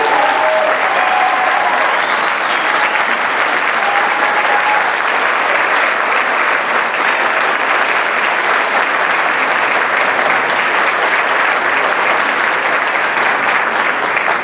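Loud, continuous applause fills a banquet room at a Nevada Democratic Party dinner, a thick crowd roar of clapping with faint cheering mixed in that holds steady for the full fourteen seconds.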